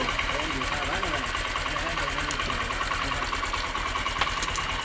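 A Honda Shine BS6 fuel-injected motorcycle engine idles close by, with a steady, fast rhythmic thrum and slight knocking texture after an RPM adjustment.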